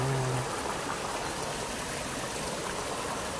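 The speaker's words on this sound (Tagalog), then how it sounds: "Kaya papangalan natin Lagaslas Falls" A small, unnamed waterfall behind a building under construction rushes in a steady, even roar of falling water, close and constant with no voices.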